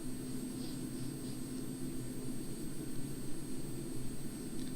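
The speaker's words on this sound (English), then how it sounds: "Now wait for your aircraft to accelerate." A simulated jet aircraft accelerating for takeoff in Flight Simulator X, a steady engine drone with low tonal hum and high whine, moderately quiet and continuous, without speech.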